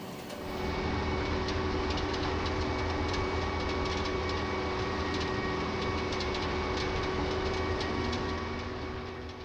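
A Vermeer ZR5 1200 self-propelled hay baler runs its 200-horsepower engine, producing a loud, steady, close drone with a rattling mechanical texture and no talk.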